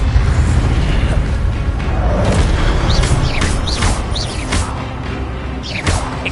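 Booming blasts and whooshing bursts of an Incendio fire spell in the Hogwarts Legacy video game, several sharp impacts in quick succession over a rumbling low background, with a voice calling out the spell.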